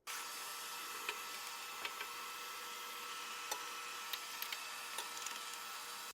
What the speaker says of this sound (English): I'm going to turn the vacuum back on